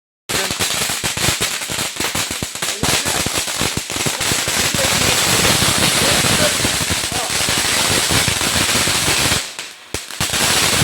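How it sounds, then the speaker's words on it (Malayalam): Sivakasi tin sparkler fireworks burst in a dense, continuous crackle of rapid pops lasting several seconds, loud and close during Vishu festivities, with a brief lull near the end. "ഇത് ഉഷാറ് പടക്കട്ടോ. ശിവകാശിലെ അടിപൊളി സാധനം."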